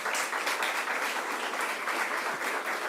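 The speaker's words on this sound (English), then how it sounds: "Let's give him a round of applause." An audience claps steadily and fairly loudly at a governor's announcement on semiconductors, a continuous wash of applause with no break.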